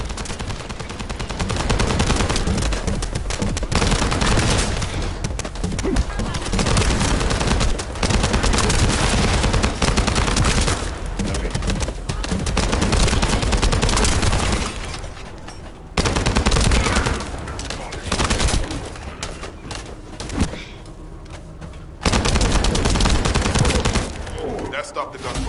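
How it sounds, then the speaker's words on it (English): Dense gunfire from the video game The First Descendant, loud sustained bursts and rapid shots nearly filling the stretch, with a few brief lulls and some voices mixed in. "That stopped the gunfire."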